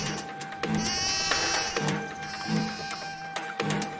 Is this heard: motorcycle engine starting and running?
no